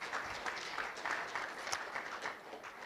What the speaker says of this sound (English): Please give him a round of applause as he walks to the panel.